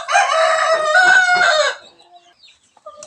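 Chickens in a coop built on a house rooftop: a rooster crows loudly and close for over a second, then a few faint clucks follow in near quiet.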